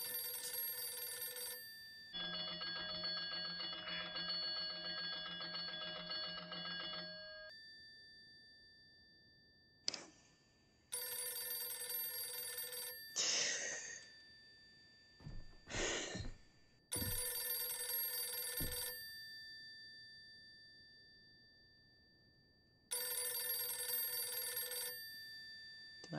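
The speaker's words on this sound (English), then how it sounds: "Do I answer the phone?" Old landline telephone ringing inside the horror video game Visage, sounding in repeated loud bursts separated by pauses, with brief thumps and other game sounds in the gaps and no talking.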